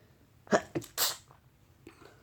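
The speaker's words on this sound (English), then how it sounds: "Hold on a second, I might sneeze." A single close sneeze with a sharp intake and burst, followed by a faint breathy sound afterward.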